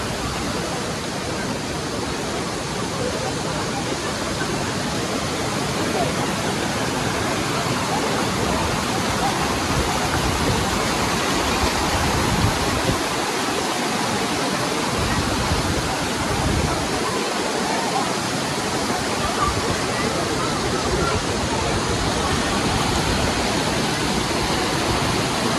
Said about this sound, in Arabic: طبعا شوفوا هذا الشلال هم هناك